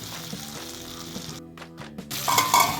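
Chopped tomatoes for a tomato, garlic, ginger and mint chutney fry in a pan with a steady close sizzle, a spoon stirring and scraping through them, with brief quieter gaps.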